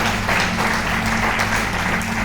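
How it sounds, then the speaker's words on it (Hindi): An audience at a Gita seminar in Lucknow claps continuously, a dense, even wash of applause held at steady loudness from start to finish. "इनके लिए आप वास्तव में ज़बरदस्त ताली बजाइए"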